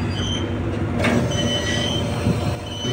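A hydraulic winch turning downward gives a loud, steady mechanical whir with a low rumbling drone and faint metallic whine, running continuously without a break.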